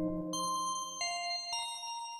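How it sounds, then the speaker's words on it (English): A bright bell patch on a Liven XFM synthesizer rings three struck notes about half a second apart, each sustaining with clear overtones, alone and fairly soft. "So I quite like this bell sound, but I feel like maybe it's played in too high a register now."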